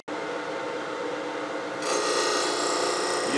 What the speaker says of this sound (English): Just use a spindle gouge.